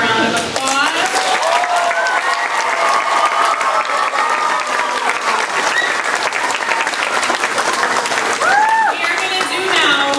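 Elementary schoolchildren give a loud, sustained round of applause for a visiting football player, dense clapping mixed with shouts and cheers from the crowd.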